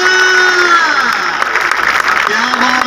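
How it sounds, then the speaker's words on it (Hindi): A crowd at a village volleyball match applauds and cheers loudly and continuously, with whistles and shouts mixed in, while a voice talks over the noise through a loudspeaker. "जोरदार तालियां"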